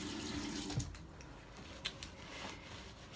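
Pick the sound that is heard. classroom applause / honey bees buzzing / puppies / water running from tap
water running from tap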